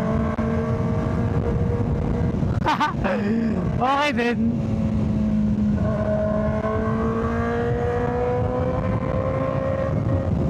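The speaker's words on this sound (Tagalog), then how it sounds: "Ito pala yung tunog ng tambucho natin na walang tambucho." A Kawasaki ZX4RR motorcycle idling and revving with its exhaust muffler removed, a loud raw steady engine drone with two sharp throttle blips, while someone speaks briefly over it.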